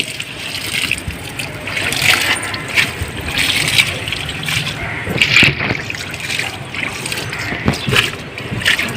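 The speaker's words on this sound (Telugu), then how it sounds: "నీళ్ళు వేసుకోవాలి విత్తనాలు వేసే ముందు" Water trickles and splashes onto potting soil mix before sowing seeds, a steady close stream with small surges and a faint outdoor background.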